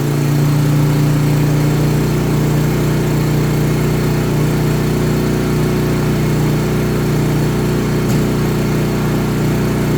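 A Philking PK4200ie2a fully automatic generator runs with a steady, loud droning engine note throughout, a constant mechanical hum with no talk over it.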